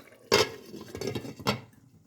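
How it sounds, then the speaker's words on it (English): A lid set back onto a cooking pot of curry mutton and cornmeal dumplings gives a sharp metallic clatter, then a couple of softer clinks as it settles, close by in a quiet kitchen. "Put back on the lid on that"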